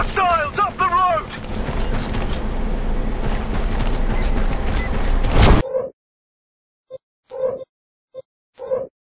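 Weapon reloading in the video game Section 8: clattering mechanical clicks and metallic handling over busy battle noise, then after a sudden cut a few short separate clunks and voice-like bursts in near silence.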